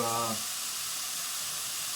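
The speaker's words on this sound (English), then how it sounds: "The bacon in the frying pan" Steady sizzling hiss of bacon frying in a pan, continuous and fairly quiet, with a brief voice at the very start.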